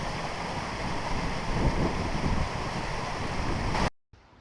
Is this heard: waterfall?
yes